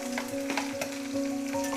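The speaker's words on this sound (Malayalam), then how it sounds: "ഇനി ഇത് നന്നായിട്ട് വാടി വരുന്നത് വരെ ഒന്ന് ഇളക്കി കൊടുക്കാം" Garlic, ginger and green chili fry in hot oil while being stirred: a steady, close, continuous sizzle with light scraping, over a faint constant hum.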